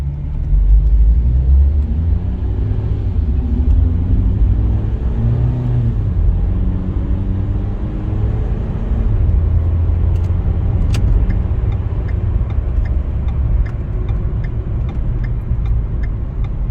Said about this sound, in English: there's quite a bit of traffic around